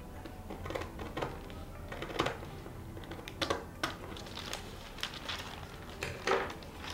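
Scissors cut through trouser fabric while a pattern is being shaped: a quiet, close series of sharp snips and clicks at irregular intervals, with no voices.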